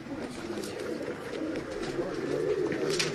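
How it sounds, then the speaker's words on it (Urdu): Pigeons coo on a rooftop loft, a soft, continuous murmur of low coos close by, with faint voices in the background. "بہت اچھے کبوتر کٹھے کیے ہیں"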